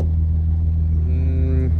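A Volkswagen Mk3 with a 12-valve VR6 engine idles close by, a steady low rumble with a faint higher-pitched whine rising in partway through and cutting off near the end.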